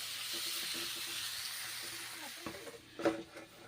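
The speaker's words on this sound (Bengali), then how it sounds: "তারপরে ভেজে নিচ্ছি পটল ভালো করে ভেজে নিতে হবে" Pointed gourd (potol) fries in a pan with turmeric and salt. A steady close sizzle hisses throughout, and a few stirring scrapes and clinks come near the end.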